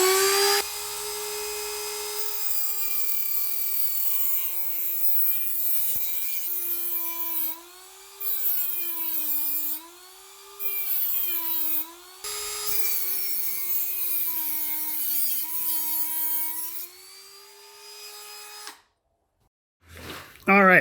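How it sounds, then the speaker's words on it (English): Dremel rotary tool grinding metal brake hardware on a 1985 Ford F-150, a close high-pitched whine that rises and falls under load in several long runs with short breaks. "So my solution is a Dremel."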